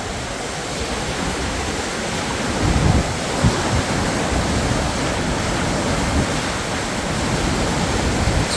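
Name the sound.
high water crashing over dam gate on Fox River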